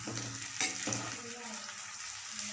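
Chicken kondattam fries on a low flame as a spoon stirs it through the pan, a soft sizzle under a few brief scraping strokes, quiet and close, with no speech.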